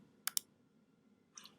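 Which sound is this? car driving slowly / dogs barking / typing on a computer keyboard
typing on a computer keyboard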